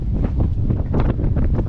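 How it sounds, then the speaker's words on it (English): Wind buffeting the microphone aboard the motor yacht MV Havaseas, a Nordhavn 50, at anchor in the Bahamas, producing a loud, continuous low rumble with gusty pulses. "Ooh, it's windy and it's kind of cold."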